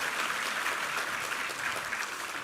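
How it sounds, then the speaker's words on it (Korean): Church congregation applauding together, a dense, steady wash of clapping that holds at an even level from start to finish with no voices over it. "우리 하나님께 감사와 영광의 박수 올려드리겠습니다"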